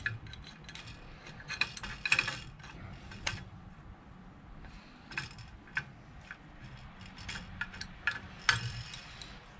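Metal pipe wrench working loose a residential heating system's pressure switch box, giving irregular ratcheting clicks, scrapes and knocks at close range, with brief bursts of sharper metallic contact and no talking.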